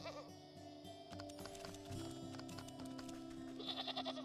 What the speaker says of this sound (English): Let's go and give this goat a little trimmy haircut.